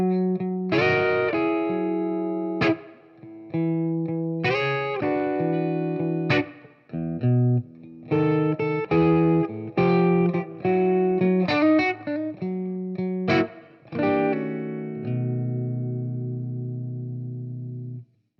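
Electric guitar playing a blues phrase with distorted, effected tone, bent and hammered notes in a loose rhythm, ending on a sustained ringing chord.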